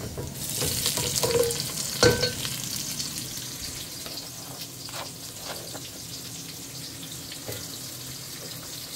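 Onions fry in a pan for curry crab, a steady close sizzle punctuated by a few light clicks and stirring scrapes, with one sharp knock early on.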